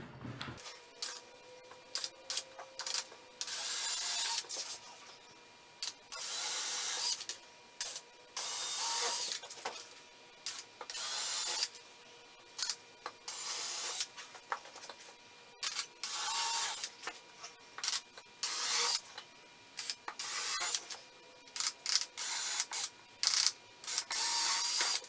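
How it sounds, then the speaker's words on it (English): A power drill pre-drills a row of holes in wood during a firewood-splitter tool build, sounding as repeated loud whirring bursts of a few seconds each, separated by short pauses. "I'm going to go ahead and get these all pre-drilled real quick"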